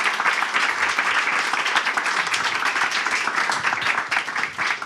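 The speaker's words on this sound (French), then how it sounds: "nous pouvons applaudir les récipiendaires des prix d'excellence" A room of people applauds award recipients at a teaching excellence awards evening, a dense, even wash of clapping that continues steadily without talk.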